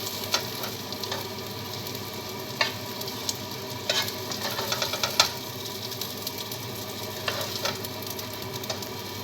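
Courgettes fry in a pan with a low, continuous sizzle, and occasional clinks and scrapes from stirring stand out over the hiss.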